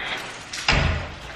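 A store's automatic push-to-exit entry door gives a soft slide and then a solid thump as it closes, heard close by in an otherwise quiet space.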